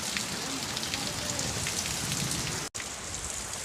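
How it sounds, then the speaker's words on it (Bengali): Heavy rain falls steadily on surfaces in Gopalnagar during a downpour that has flooded the roads, a dense, even hiss close by with one brief dropout. "আমি বৃষ্টি কমছে না এখন, দেখেছো অসুবিধা।"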